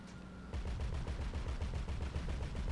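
Rapid automatic gunfire from the GTA 5 video game rattles off in a fast, steady burst after a brief quieter moment, loud and sustained with no talking.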